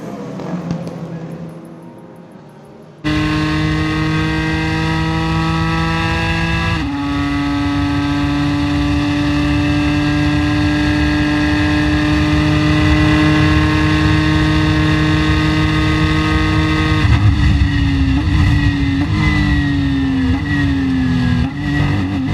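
A Ford GT race car at the Le Mans race holds a loud, steady high-revving engine drone for a long stretch, with pitch shifts as it changes gear and drafts past a Ferrari, with no talk.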